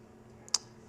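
A single sharp mouse click sounds at close range in the Aurora Toolset editor, a quick double tick over a quiet room hum with no talking.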